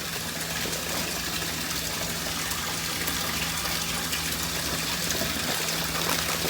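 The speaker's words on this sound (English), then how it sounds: "I'm just getting a bath run for me at the moment" Water from a tap runs steadily into a bath, a continuous close hiss and gush with a faint low hum underneath, unchanging throughout.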